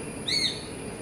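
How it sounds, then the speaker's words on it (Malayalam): A bird known locally as kaakka thampuratti gives one brief, clear whistled call outdoors, moderately distant, over a steady background hiss. "ആ കാക്കത്തമ്പുരാട്ടി"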